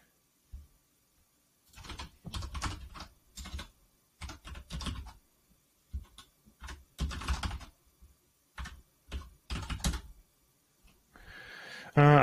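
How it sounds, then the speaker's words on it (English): Someone types a web link on a computer keyboard in uneven bursts of quick clicks with short pauses between them, clear and close, and the burst at the very end is the loudest. "I just typed the link in and it appears to be working without any problems"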